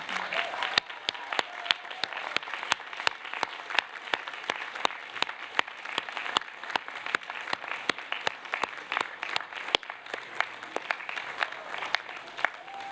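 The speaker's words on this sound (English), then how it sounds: "take a moment to acknowledge all your supporters with another enthusiastic round of applause" At a university graduation ceremony, graduates give an enthusiastic round of applause for their family and friends, a dense crowd clapping that runs continuously with crisp individual claps standing out.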